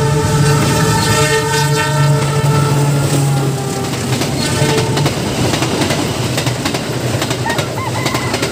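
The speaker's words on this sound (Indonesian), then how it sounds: "itu ada kereta." A passenger train rumbles past close by with rhythmic clacking of wheels, while birds coo and chirp in the background.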